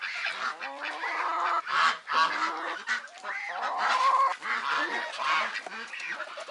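Geese with goslings at a pool honk over and over, loud and close, several harsh nasal calls overlapping in a noisy, continuous chorus.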